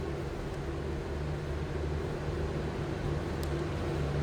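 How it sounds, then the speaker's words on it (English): A steady, even idle from the inline six engine of a 1966 Ford F-100 pickup hums continuously at moderate distance, low and unchanging throughout, with no voices. "what you'd expect an inline 6 to sound like"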